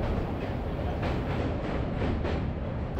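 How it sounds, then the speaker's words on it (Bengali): A passenger train running along the Howrah chord line toward Bardhaman gives a steady, continuous rumble with faint periodic rattles, heard from on board at a fairly even level throughout. "ট্রেনটি দমদম হয়ে বালির ব্রিজ দিয়ে হাওড়া কর্ড লাইন ধরে সোজা বর্ধমান।"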